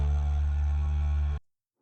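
A dry didgeridoo preset with a higher voice plays a steady, sustained drone with rich buzzing overtones for about a second and a half, then cuts off cleanly into silence, with no effects applied.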